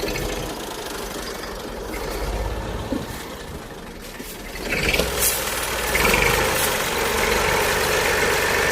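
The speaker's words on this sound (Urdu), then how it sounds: "چلتے ٹریکٹر میں." A tractor engine runs steadily at close range, a low rumbling idle with knocking texture that grows slightly louder and rougher partway through, with no talking.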